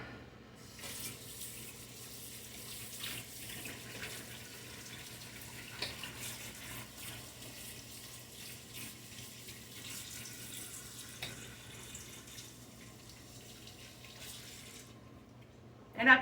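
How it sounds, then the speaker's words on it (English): A kitchen tap runs steadily while hands are washed during cooking, a close, continuous hiss of water with slight splashing variations and a brief clatter at the end. "Get my hands washed now."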